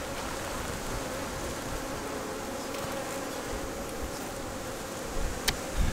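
Honey bees buzz steadily around an open hive box, a dense, continuous close-up hum with no pauses, a few brief knocks near the end.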